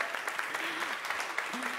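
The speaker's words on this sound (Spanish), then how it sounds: "Fuerte aplauso." Audience applause greets a singer from a Costa Rican vocal ensemble, a short stretch of steady clapping under a voice speaking over it.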